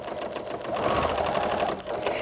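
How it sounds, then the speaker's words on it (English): A domestic sewing machine runs at a steady clatter while stitching quilt blocks in the fold of the fabric, close and continuous with no voices. "Notice I'm stitching right in the fold of the fabric."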